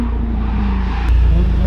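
A 500whp Subaru STI on a kart track's outer ring roars close and loud, a deep steady engine drone that swells slightly near the end, with no talking.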